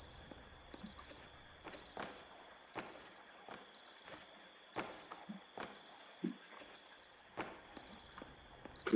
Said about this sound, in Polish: Klikamy budzik.